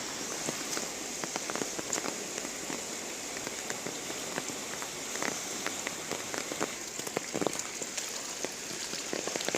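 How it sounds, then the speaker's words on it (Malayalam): Heavy rain patters densely on a hard surface in Chelakkara, Kerala, steady and unbroken, with sharp drops ticking throughout and no voices. "ആരംഭിച്ച മഴ ഇപ്പോഴും തുടരുകയാണ്."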